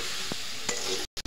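Jujube (boroi) frying in oil for pickle, a steady close sizzle with a couple of light stirring knocks before it cuts off abruptly.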